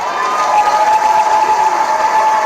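A crowd at a Dave Chappelle stand-up comedy show applauds and cheers, a dense continuous wash of clapping and shouting that holds steady throughout.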